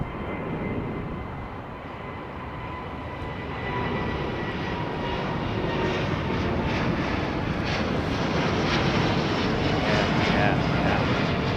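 Thai jet airliner at London Heathrow Airport, a steady broadband engine roar that swells gradually and stays loud and sustained, with faint voices talking in the background.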